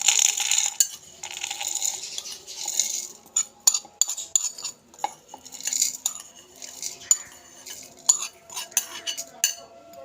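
Fully dried milk, ready for grinding into homemade milk powder, is scraped and handled with a metal spoon in a vessel, making a series of close, crisp clinks and scratchy scrapes in irregular bursts with short pauses.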